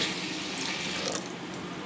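Water pouring into a pressure cooker holding toor dal, chili powder and turmeric for sambar, a steady hissing splash that runs unbroken and moderately loud for the whole stretch.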